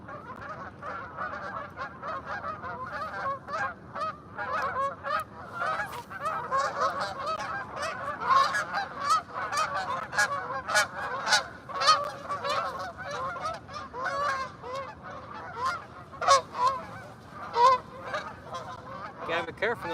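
Geese honking by the water at an urban fishing spot, a busy flock giving repeated loud honks in irregular bursts, fairly close, with faint voices in the background.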